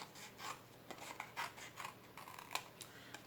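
Scissors snip through card along a score line in a steady run of soft crisp cuts, close up and quiet with no voices.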